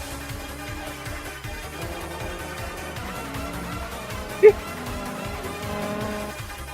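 Race cars in a Grand Touring racing video game at Silverstone or Modena, a steady layered engine drone running throughout with one brief sharp tick midway, loud and continuous.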